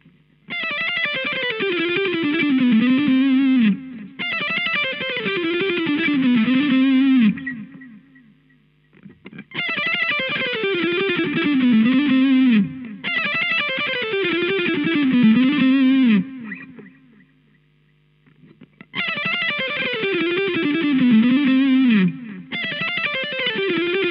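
Electric guitar with heavy distortion, picked with a Dragons Heart pick using its different tips, playing three loud repeated riff phrases separated by short pauses, each ending in sustained ringing notes.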